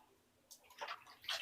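Water poured from cups over a cat in a bath, three faint short splashes spaced apart, quiet and close, with no speech.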